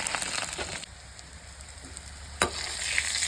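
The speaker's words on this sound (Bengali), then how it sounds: "এখন বড়াগুলো বেজে নেব। এটা ডিমের বড়া, সব ডিম দিয়ে দিয়েছি।" Fish roe fritters frying in hot oil, a close, continuous hissing sizzle with crackles, briefly dipping quieter before a sharp spatter burst and renewed bubbling.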